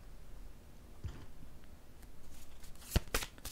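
A tarot card slid and drawn from the deck in a quiet room, soft papery rustles building to a couple of sharp close card snaps near the end.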